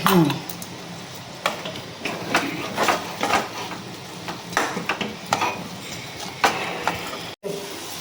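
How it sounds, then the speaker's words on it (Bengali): Fried spice filling for radhaballavi being stirred in a pan, a series of irregular metallic scrapes and clanks of a spoon against the pan over a low background hiss, close and without talk. "এবার এটাকে মিক্স করে নিয়ে 7-8 মিনিট এটাকে ভালো করে নাড়িয়ে নিতে হবে"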